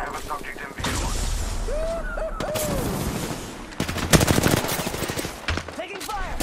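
Bursts of automatic and single-shot gunfire in an Apex Legends firefight, loud and close, with rapid repeated shots and sharp cracks throughout. Voices talk over the shooting.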